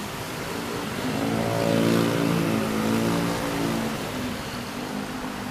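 A vehicle engine behind a motorcycle rider with a Motoposh Typhoon 150 drones steadily, swelling as it revs midway and easing back, close and loud with no talk.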